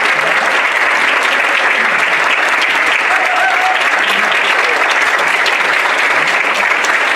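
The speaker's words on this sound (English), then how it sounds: "Can I get Ruth's family and friends to all stand up so we can give you a round of applause" Steady, dense round of applause from an audience at a health award ceremony, honoring a family and friends standing up, sustained and fairly loud throughout with no pauses.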